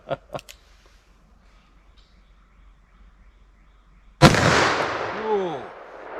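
A .44 Magnum revolver fires single action at a steel plate 25 yards away: one loud, sharp blast with a rolling outdoor echo, after a couple of faint clicks in near silence.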